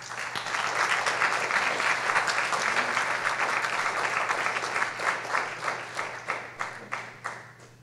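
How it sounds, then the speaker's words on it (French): A lecture audience gives a welcoming round of applause: dense, steady clapping that thins into scattered individual claps near the end, with a low hum underneath. "Alors, peut-être une bonne main d'applaudissements pour l'accueillir."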